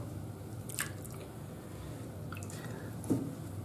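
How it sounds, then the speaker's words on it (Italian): Water-soaked tallow shaving soap squeezed out by hand, a few soft wet squelches and drips, quiet and close, over a steady faint background hiss. "Andiamo a strizzare, il sapone si sarà ammollato."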